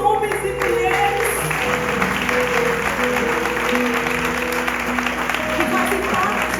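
A church congregation at a pastoral ordination claps in sustained applause, mixed with music and voices, loud and continuous throughout.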